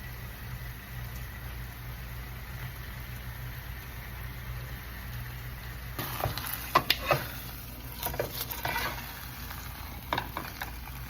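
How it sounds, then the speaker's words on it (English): Meat sears for a roast bolognese sauce: a steady background hum for several seconds, then crackling sizzle and sharp stirring scrapes of the pan join in, close and moderately loud, with no talking. "I just want to give this just a really nice sear before I put it into the pot for it to start cooking"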